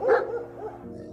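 A voice imitates a dog barking, giving a few short, rough bark-like calls, close and clear, over roughly a second.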